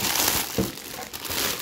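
Plastic wrapping is peeled off an Easter egg, giving close, continuous crinkling and crackling with a few sharper rustles, loud and with no talk over it.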